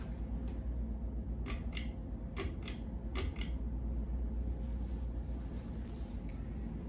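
A Craftmade CXL ceiling fan with a 188 by 20 millimeter motor runs at medium speed in an apartment, giving a steady, even whoosh and hum with a few brief clicks near the start.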